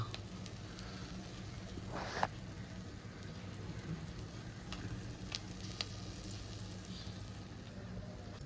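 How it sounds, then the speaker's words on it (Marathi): Almonds and cashews frying in hot ghee give a steady, close sizzle that runs throughout, with a brief burst of louder crackle near the start and no talk. "गरम तुपामध्ये जात आहे आपलं बदाम काजू त्यानंतर मनुके त्याला व्यवस्थित फ्राय करून घ्यायचं आहे"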